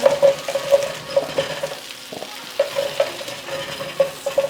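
Brisket cooks in a pan with a soft sizzle beneath repeated scraping strokes of stirring, each stroke leaving a short tonal squeak, close by with no talk.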